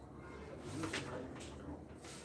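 Doves or pigeons at the İzmir bird market give soft, low coos under a murmur of distant voices and faint rustling, heard close but quiet.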